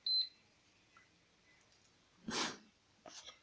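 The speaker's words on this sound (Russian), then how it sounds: "Вот такой вот у нас IMAX, что-то он пищит." An IMAX lithium polymer battery charger lets out one short, high beep at the start, followed by quiet handling sounds and a brief breathy burst of noise.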